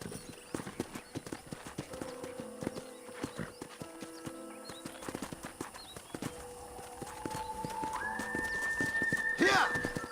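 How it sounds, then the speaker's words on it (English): A horse in the video game Red Dead clip-clops steadily at close range, its hooves beating a quick rhythm throughout, then lets out a loud whinny near the end, all set against a soft ambient game soundscape. "let's see if you can still ride a horse"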